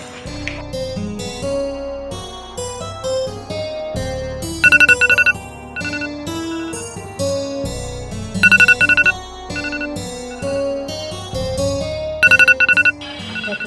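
A melodic phone ringtone plays on and off over several cycles, with a brief bright beeping burst repeating about every four seconds, fairly loud with no voices.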